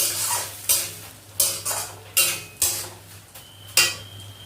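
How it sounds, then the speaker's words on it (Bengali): Moong dal is stirred in a pan, with a spoon scraping and knocking against the metal in a regular beat about twice a second over a faint sizzle, close and without talk. "এবারে মুগ ডালটাকে আমি একটু নাড়াচাড়া করে"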